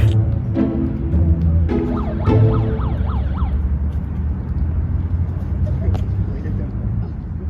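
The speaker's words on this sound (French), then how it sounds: "J'ai ici le mégaphone et j'ai découvert un bouton sirène." A loud electronic siren from a handheld megaphone, rising and falling in quick repeated sweeps, with background noise and some voice at the start.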